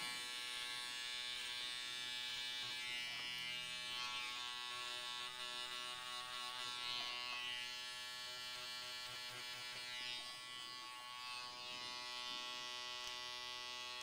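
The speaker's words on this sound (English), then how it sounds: "a little trimmer over comb." Electric hair trimmer cutting hair over a comb while rounding off the back of a haircut, a continuous close buzzing drone that wavers slightly in loudness as it moves through the hair.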